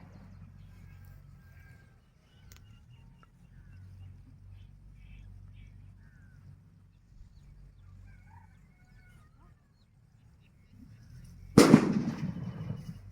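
After a long quiet stretch of low outdoor noise, a single loud firecracker blast bursts near the end on a paddy field bund in Tamil Nadu, trailing off in a rough rumble.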